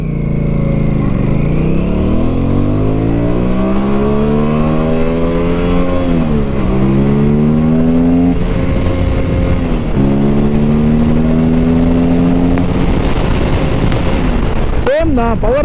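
Aprilia RS 457 motorcycle, a 450cc parallel twin, revving hard through repeated gear pulls, each rising whine broken by a brief dip at the shift, loud and close throughout.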